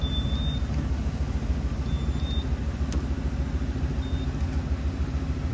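A Ford F-350 Super Duty pickup engine runs at a steady idle, a deep, even rumble heard up close that holds constant with no change in revs and no voices.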